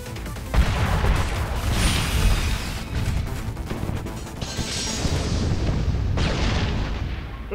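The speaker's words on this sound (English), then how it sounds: "Explosion!" Heavy explosions and crashing blasts in the Sonic Frontiers video game, loud rumbling booms in several overlapping bursts filling the whole stretch.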